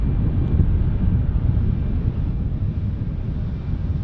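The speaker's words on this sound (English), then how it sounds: "And we're getting the wind." Steady wind roars across an open airport plane-spotting spot, a dense low rumble buffeting the microphone continuously with no breaks, loud and close throughout.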